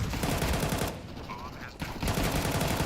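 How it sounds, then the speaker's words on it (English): Rifle spray fire in Counter-Strike during a bomb-site push, rapid loud bursts of automatic shots that break off for about a second and then resume. "That's 3 kills in a single spray down"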